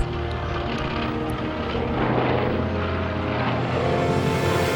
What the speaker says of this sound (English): the CAF Air Show prepares for an aerial demonstration of the mighty warbirds used in the European theater